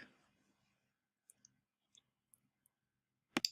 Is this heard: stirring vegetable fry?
no